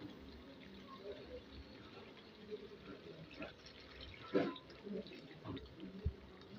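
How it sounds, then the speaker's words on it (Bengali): Hot water is poured into browned mutton curry in a pot. A brief, soft splash and trickle rise out of a quiet, low-level background. "এখন আমি এর মধ্যে দিয়ে দেবো একটু গরম জল।"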